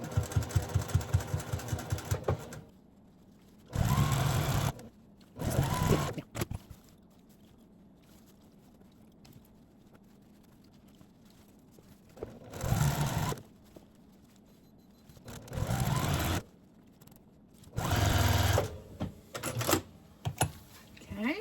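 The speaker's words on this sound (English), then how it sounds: "I'm going to put my presser foot right here on this line, and I'm just going to follow this straight down" A sewing machine stitching a straight seam along a marked line on a quilting project, several separate runs of rapid mechanical whirring, each lasting a second or two, separated by quiet pauses.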